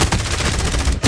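Rapid gunfire in a video game, a loud close burst of repeated shots in quick rhythm lasting about a second.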